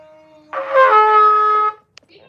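Trumpet lip buzz pitched at F, a single sustained buzzing tone lasting just over a second, close and fairly loud against near silence, ending abruptly with a small click afterward.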